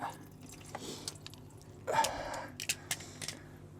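Fluid drains from a Triumph Street Triple motorcycle during home servicing, heard as scattered drips and small liquid splashes with a brief louder gush near the middle, close by and with no talk.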